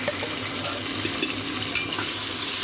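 Ginger garlic paste stir-frying in a pan for home-style biryani, a steady sizzle with soft scraping of a stirring spoon, close and continuous with no talk.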